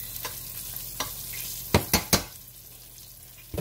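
Mini pork chops fry in a pan with a soft, steady sizzle, broken by a few sharp clinks of a utensil against the pan in quick succession.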